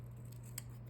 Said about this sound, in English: somewhere around here I have scissors. Yes, I do. So I'm just going to trim off this little bit.